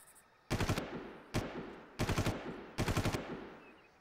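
Automatic gunfire in the game Far Cry, four sharp bursts of rapid shots, each fading with echo, loud and close with no talk.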